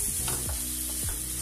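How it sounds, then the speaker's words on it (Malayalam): Tomato and masala sauté in a hot pan for chicken dum biryani, a loud close sizzle broken by a few quick scraping strokes of a stirring spoon, with no voices. "ഇളക്കി നന്നായിട്ടൊന്ന് വഴറ്റിയെടുക്കും."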